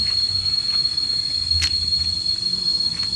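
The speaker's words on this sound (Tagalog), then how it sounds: "Ay, grabe yung kuliglig. Ang dami." Crickets chirping in the forest on Mount Makiling, a loud, continuous high-pitched drone from many insects, steady throughout with faint rustling and footsteps beneath.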